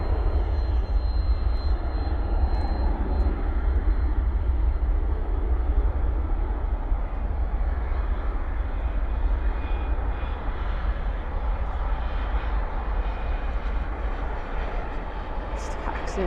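An Atlas Air 747 taxiing at night at Dallas/Fort Worth airport, a deep continuous jet engine rumble and roar at moderate distance, steady for the whole stretch with faint ambient airport noise.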